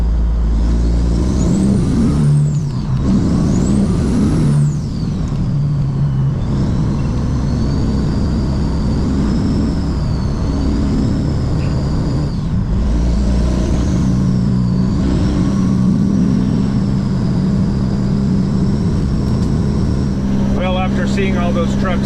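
A truck airs up its brakes and pulls away, producing a loud, continuous engine rumble with high whistling, rising-and-falling air tones over roughly twenty seconds, and a brief hissing burst near the end.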